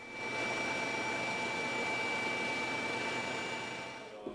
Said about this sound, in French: l'hélicoptère de la sécurité civile a été mobilisé pour des simulations